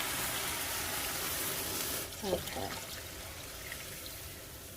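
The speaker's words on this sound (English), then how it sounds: "Now I'm going to start adding water." Water poured into a pot of kimchi jjigae with minced garlic: a steady, close rush of pouring for about two seconds, then softer splashes and trickles as it settles, with one brief spoken word.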